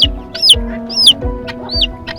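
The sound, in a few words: silkie chickens clucking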